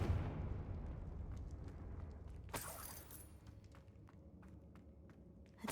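A fiery explosion as the Confringo blast spell detonates in Hogwarts Legacy inside a witch's tomb, a sudden bright crackling burst mid-clip over a low rumbling ambience, followed by scattered light debris ticks and footsteps.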